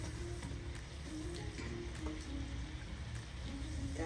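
Keropok crackers frying one at a time in hot cooking oil give a steady, close crackling sizzle that runs unbroken throughout, with no talking over it.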